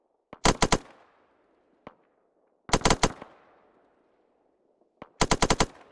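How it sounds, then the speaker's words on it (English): Gunfire during a military exercise in Arctic conditions, heard as three separate bursts of rapid automatic fire spaced a couple of seconds apart, each loud and sharp with short rattling volleys. Two faint single cracks fall in the gaps between bursts. "You can hear the shots coming in"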